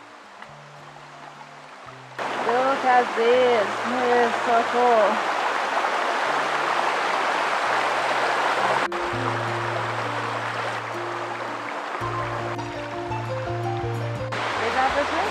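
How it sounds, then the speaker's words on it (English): An Australian waterfall gives off a constant rushing roar that rises suddenly and then stays steady, heard beneath background music while a person speaks excitedly. "Probably can hear the sound of the waterfall too."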